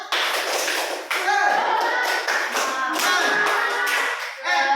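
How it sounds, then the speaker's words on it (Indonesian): Children in a classroom do a rhythmic spirit clap, quick patterned bursts of hand claps and taps close by, mixed with their voices chanting along. "Tepuk semangat."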